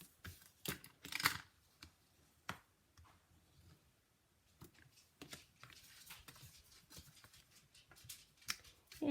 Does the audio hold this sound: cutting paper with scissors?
yes